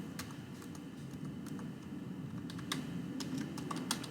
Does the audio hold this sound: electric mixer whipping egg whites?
no